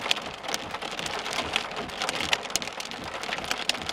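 Dense, continuous patter of hail striking surfaces outdoors during a severe Oklahoma storm, close and loud with sharp scattered impacts and no talking.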